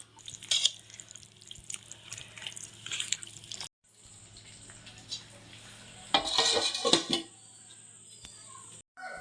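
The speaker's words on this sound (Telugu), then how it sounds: "కొన్ని వాటర్ పోసుకుంటూ అంతా కలిసేటట్టు బాగా కలుపుకోవాలి." Onion pakodi batter with coriander is mixed by hand while water is poured in, with wet squelching and stirring in a bowl, small drips and a clatter, soft and close with pauses.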